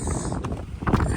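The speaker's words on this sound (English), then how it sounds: "Oh, it's a bit windy today." Wind gusting outdoors on an early winter morning after an ice storm, a steady rushing buffet against the microphone with a couple of stronger surges, heard alone.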